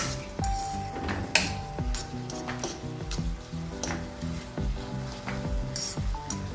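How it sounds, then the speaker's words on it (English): Shrimp cooking in a pan for homemade shrimp fried rice gives a soft, fairly faint sizzle, broken by a few clinks and knocks of utensils or the lid, with no voices. "cook a bit of the shrimp"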